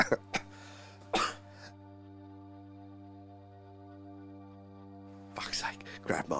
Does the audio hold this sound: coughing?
yes